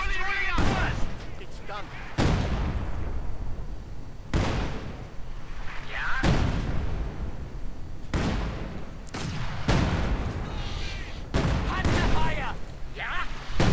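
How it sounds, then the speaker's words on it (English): Field gun artillery barrage in a real-time strategy video game, with repeated booming blasts every couple of seconds, each decaying into a rumbling tail, loud and close, with faint talk underneath. "And a field gun barrage."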